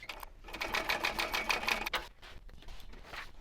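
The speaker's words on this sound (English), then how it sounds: "I'm going to stitch with the recommended seam allowance, back stitching at the beginning and the end of the seam." A sewing machine stitches a handbag seam with a rapid, even mechanical whir for about two seconds, then stops and gives a few lighter clicks and ticks afterward.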